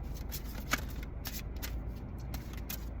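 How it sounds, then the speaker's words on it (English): Close, steady riffling of a tarot card deck, dry papery flutters and soft slaps continuing throughout with no talk. "This deck is really hard for me to shuffle because my hands are so small."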